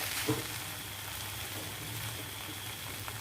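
Chili paste for jaew bong bubbling and sizzling steadily in a pan, a soft continuous frying hiss with faint pops, heard close and alone.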